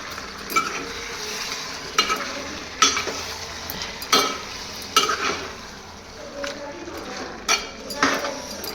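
Curry bubbling and sizzling in a pan, stirred now and then with a spoon that clinks against the metal at intervals, with steady frying noise between the scrapes.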